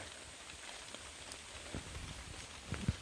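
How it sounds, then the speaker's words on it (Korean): Light rain begins pattering in a forest, soft scattered drops and a faint hiss, with a few sharper taps toward the end. "지금 비가 내리기 시작했는데요"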